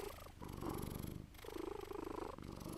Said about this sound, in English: that's not my breathing. It's my cat. She wants attention.